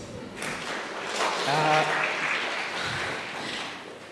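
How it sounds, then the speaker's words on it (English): Audience applause at a young advocates' conference, a sustained wash of clapping with a voice briefly heard over it midway. "More round of applause, please."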